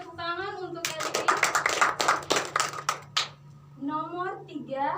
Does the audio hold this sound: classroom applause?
yes